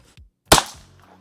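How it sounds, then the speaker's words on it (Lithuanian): A single sharp gunshot rings out on a shooting range while a Garmin Xero C2 chronograph measures the shot, a loud, close crack that decays quickly, with faint soft thumps before it. "Trečias šūvis visi sudirbo."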